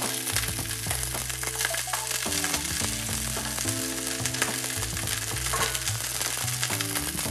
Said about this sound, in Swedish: Blomkålen, den är i pannan och steker i lite olivolja som sagt.